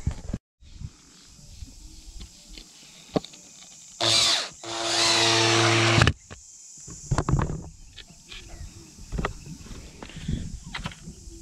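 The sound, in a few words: power drill driving screws into wooden post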